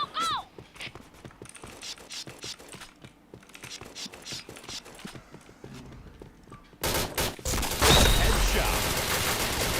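Rapid gunfire bursts from a shooting video game, with clicky mechanical reload and weapon sounds, then a louder, dense wash of firing and an explosion-like roar near the end, mixed with faint background voices.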